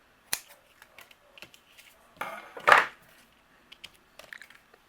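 Scissors trimming the tails of a doubled white twine bow on a handmade card, a few quick close snips among faint clicks and handling noises.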